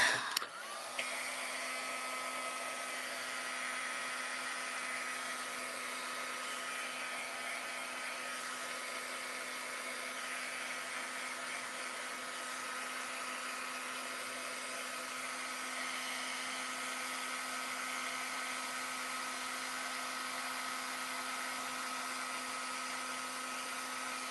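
A heat tool blows hot air onto an embossed card, a steady high whine and rushing airflow that starts abruptly and holds almost unchanged throughout.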